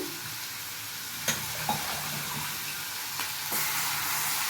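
Fresh mint fries in a pan with onion and tomato for chutney, giving a steady close sizzle with a few faint clicks of stirring over the continuous hiss and no talking.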